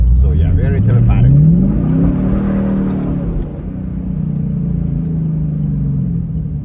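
A 2015 Camaro Z/28 engine accelerates from inside the car, a deep rising growl that climbs through the revs, then eases into a steady rumbling cruise while the driver talks over it.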